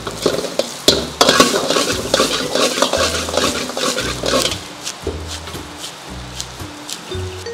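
Onion, capsicum, green chilli, carrot and curry leaves are stir-fried in a pan, with a steady sizzle broken by repeated scraping and clinking stirs of a spoon against the metal, close and fairly loud.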